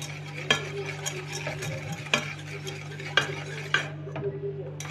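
A spoon stirring a sugar, oil and honey mixture in a pot, sharp scraping clinks recurring every second or so over a steady low hum, no speech.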